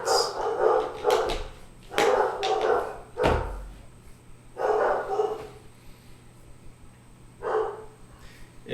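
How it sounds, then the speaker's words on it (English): Several dogs bark in short bursts, some sharp and close, others yipping, spaced irregularly across the stretch in an indoor room with a faint steady hum behind. "And they like to bark a lot."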